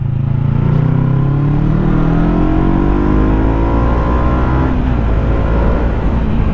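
A 2022 Yamaha YZF-R3 World GP 60th Anniversary Edition motorcycle revs loud and close, its engine note sweeping up and down through the range in a continuous roar.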